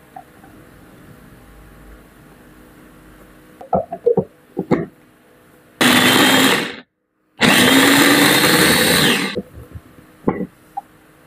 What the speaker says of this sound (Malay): Mula-mula kita kisar carrot, bawang besar, cili merah dan juga daun sup dan daun bawang